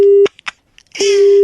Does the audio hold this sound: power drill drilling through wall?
no